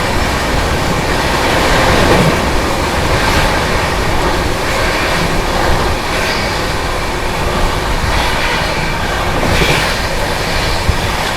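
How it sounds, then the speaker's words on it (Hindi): Bihar Sampark Kranti superfast express train rushing through Rura station at high speed, a loud continuous roar of wheels and rail noise with faint clickety-clack throughout, heard close from on board. "अपनी बिहार संपर्क क्रांति ने रूरा रेलवे स्टेशन को स्किप किया है"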